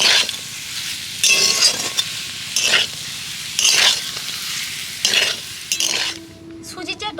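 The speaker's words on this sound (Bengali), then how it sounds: "এবার আমি সবশেষে ধনে পাতা কুচি দিয়ে দেব দিয়ে নেড়ে চেড়ে পুরটাকে নামিয়ে নেব" Potato filling with chopped coriander stirred in a pan: about six loud, distinct scraping strokes at a steady pace over a soft sizzle, then a final clink of the utensil.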